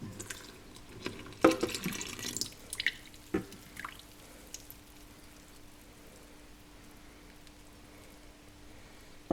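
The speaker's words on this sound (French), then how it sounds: "nous allons verser notre lait dans notre préparation" Milk is poured into a brioche dough mixture in a bowl, giving a faint, short run of liquid splashes and drips that fades into near silence, with no one speaking.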